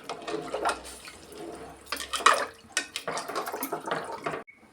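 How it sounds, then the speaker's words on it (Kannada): Water is poured into a cooking pot for khara pongal, seven cups measured in, making a series of splashing, gurgling pours with short pauses between them, close up and fairly quiet. "ಈ ಥರ 7 ಕಪ್ ನೀರು ಸೇರಿಸಿದ್ರೆ ತುಂಬ ಚೆನ್ನಾಗಾಗುತ್ತೆ ಪೊಂಗಲ್ಲು"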